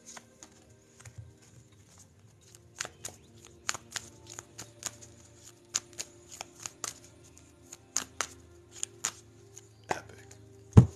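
A tarot card deck is cut and shuffled close up, giving a quiet stretch and then a run of crisp, irregular card taps and riffles that grow more frequent, with no talking.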